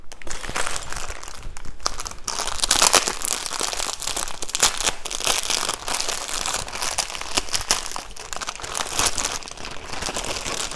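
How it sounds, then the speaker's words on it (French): Plastic bag crinkles and rustles continuously up close, with sharp crackling bursts throughout and no talking. "Désolée pour le bruit du sachet."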